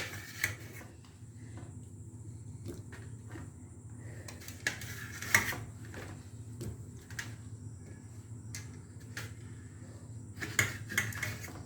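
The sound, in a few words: cutting tomatoes with a knife for chutney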